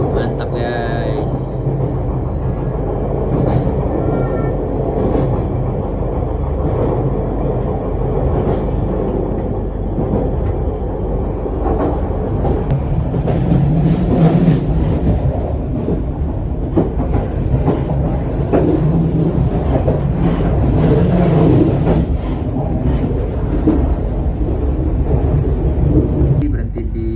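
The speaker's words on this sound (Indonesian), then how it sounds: "berhenti di stasiun Maswati sekitar 1 menit lalu diberangkatkan kembali" Passenger train of the Cikuray service running on rails in Garut, a loud continuous rumble with rhythmic wheel clatter heard from on board, with a person talking over it.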